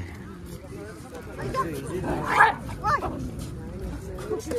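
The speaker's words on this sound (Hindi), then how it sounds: "छोटा कुत्ता भरे कुत्ते को डरा दिया।" A small dog barks in short yips at a bigger dog outdoors by a lake in Nepal, a few sharp barks mixed into background noise and talk.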